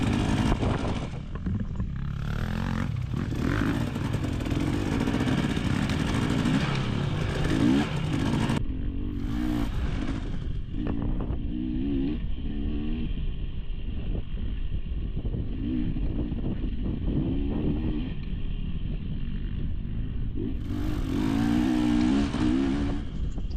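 Two-stroke KTM 250XC dirt bike racing at a SORCS Gladiator round, engine buzzing continuously with repeated revving surges and gear changes, close and loud, alongside clatter from the rough course.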